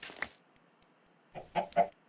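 Chickens in a Minecraft-style blocky video game give short clucks, one quick cluck early and then a tight cluster of clucks and squawks near the end, clear over near silence.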